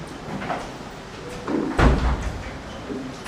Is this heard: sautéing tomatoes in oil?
no